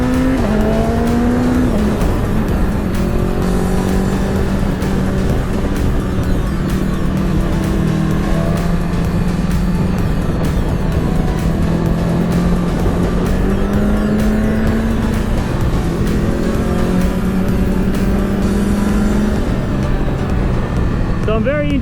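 A loud, continuous engine roar from a 2015 BMW S1000RR and a Ducati 1199 Panigale racing, with revs repeatedly rising and dropping through gear changes, close and unbroken throughout.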